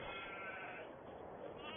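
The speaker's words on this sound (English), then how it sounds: "The sheep are fine." Sheep on a farm bleat in a faint, steady stretch of muffled, distant sound with no clear separate calls, heard alone without talk.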